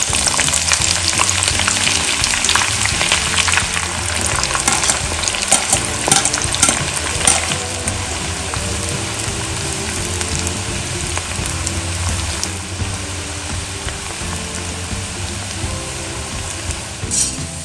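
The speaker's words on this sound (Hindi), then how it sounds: "फिर हम प्याज फ्राई करेंगे। सरसों का तेल है।" Sliced onions fry in mustard oil in a home kitchen pan, a loud, steady close-up sizzle with occasional stirring scrapes running continuously without any voices.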